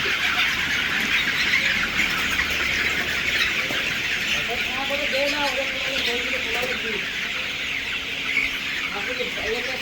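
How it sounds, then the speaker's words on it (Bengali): Sonali hybrid hens cluck and call in short bursts over a steady, dense background of farmyard noise, with a few louder chirping clucks in the middle, as they are herded to one side for beak trimming. "মুরগিগুলোকে একপাশে করে নেওয়া হয়েছে"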